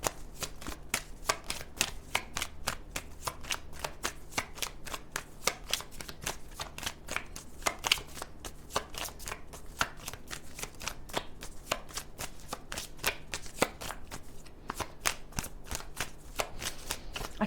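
Tarot cards being shuffled by hand during a reading, with a long run of crisp, close riffles and soft snaps in quick, uneven succession and only a faint hum underneath.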